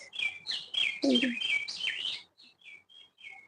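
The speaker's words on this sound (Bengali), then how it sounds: "জানলায় বসলে পরে পাখির ডাক" Small songbirds chirp and tweet in quick bursts outside a window beside a home garden, several birds overlapping at moderate distance, with a lower call briefly mixed in, then thinning to a few sparse, fainter chirps.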